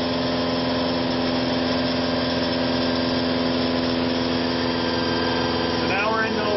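A ReGenX generator runs with no load attached, giving a steady, continuous mechanical hum with fixed tonal lines that holds level throughout, with a brief faint higher sweep near the end.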